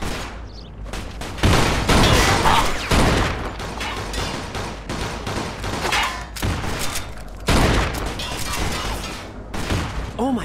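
Gunfire rattles during a Mafia 2 shootout in PC gameplay: loud, repeated volleys of shots in heavy bursts, with thumps and brief lulls between clusters, steady throughout.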